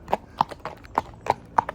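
Hooves of a ridden horse clip-clop at a steady walking pace, six or so crisp, fairly close strikes with a faint background hum and no talk.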